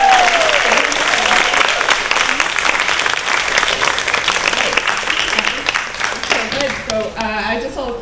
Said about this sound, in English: can we give one more clap?